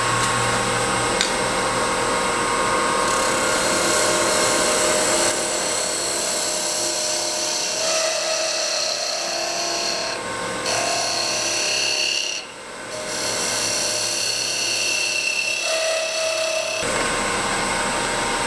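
A wood lathe spins at 2000 RPM while a tool cuts the turning workpiece, giving a continuous high whirring rasp with scraping texture and brief dips where the cut eases.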